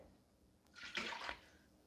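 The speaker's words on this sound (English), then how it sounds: "And then you need to add 1 cup of water." Water pours briefly into an Instant Pot fitted with a trivet, one short, soft splash of about half a second with no talking.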